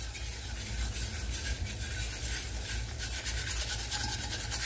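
A utensil scraping across the bottom of a skillet of gravy makes a steady, continuous rubbing rasp, close and moderately loud with no pauses and no voices.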